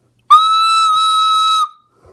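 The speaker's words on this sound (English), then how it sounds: "No, it's a recorder." A recorder is blown hard into one shrill, piercing sustained tone lasting just over a second. It is very loud and close, starts sharply and cuts off.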